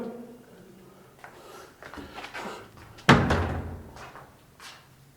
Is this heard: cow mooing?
no